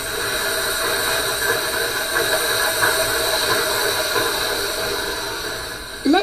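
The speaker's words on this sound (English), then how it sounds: "And can you hear the sound? It sounds like a steam train just chugging along." A heavy press bearing down on a mould of rubber nuggets gives off a loud, steady hissing chug much like a steam train, running continuously until a brief louder sound at the end.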